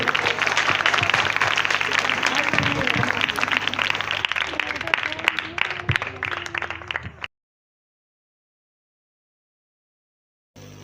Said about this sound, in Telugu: ఒకసారి అందరిగా గట్టిగా చప్పట్లు